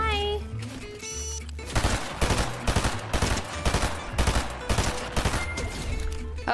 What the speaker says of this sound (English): Shots behind us?